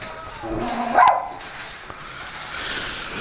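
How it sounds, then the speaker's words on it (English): A pet dog gives a single sharp yip-like bark about a second in, followed by quieter whining, all under a low background of room noise. "Stop barking. Stop barking. Stop barking."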